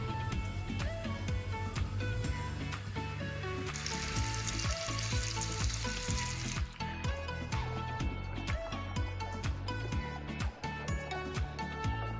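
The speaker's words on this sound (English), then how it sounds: "And you can hear that sizzle." Sausages sizzle and crackle steadily in a hot pan, a dense continuous spitting with occasional sharper pops, close and fairly loud.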